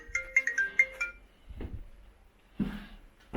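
A short electronic phone ringtone melody plays in quick repeated notes, followed by two brief bursts of nearby movement or handling noise.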